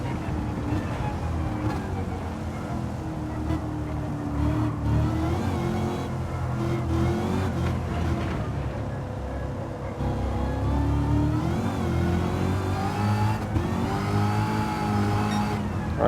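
Continuous, steady engine drone from a car in Gran Turismo 7 on a 700pp race, rising and falling gently as the driver eases cautiously through a slippery track, loud and unbroken throughout with no talk.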